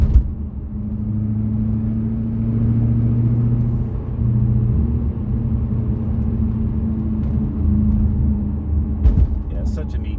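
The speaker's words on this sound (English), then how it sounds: "They sound kind of different too. It has a little hint of maybe an exotic sound because of the 4 camshafts, 32 valve." A C4 Corvette ZR1 with a four-cam, 32-valve V8 and muffler delete, heard from inside while driving: a steady low engine drone and rumble holding for several seconds, with a slight rise in pitch partway through.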